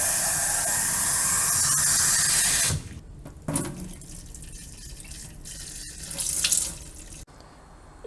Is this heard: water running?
yes